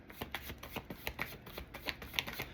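Tarot cards are shuffled in quick irregular riffles and flicks, close and crisp, with soft ticks of cards striking one another and no voices.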